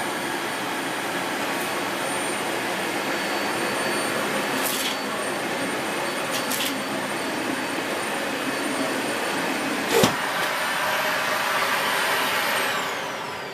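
A Vax Energise Pulse Pet upright vacuum cleaner runs with a loud, steady, close whine, with a few brief clicks and one short knock partway through.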